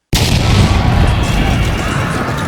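Artillery fire sound effect in a Pub Battles Austerlitz board game demo: a single sharp, loud boom that strikes abruptly and rolls out into a long, dense rumbling decay, heard alone.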